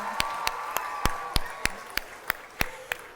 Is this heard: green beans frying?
no